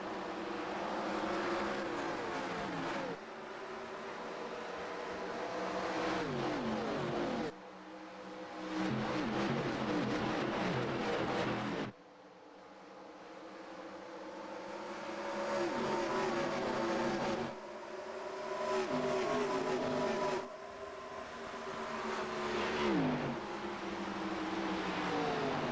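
Stock cars thunder off the green flag at the World 600 at Charlotte in iRacing, a pack of engines roaring in repeated swelling waves as the cars sweep past, loud and continuous with no talk.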